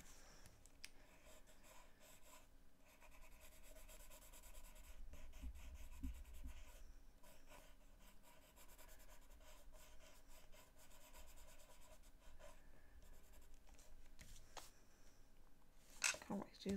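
Prismacolor colored pencils rubbing steadily across paper, a soft continuous scratchy rasp that stays close and fairly quiet throughout, with a brief sharper scrape near the end.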